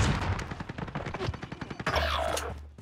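Rapid automatic gunfire in the video game Call of Duty Black Ops Cold War, loud, close bursts of shots firing in a fast rhythm, ending with a deeper blast and sustained rumble.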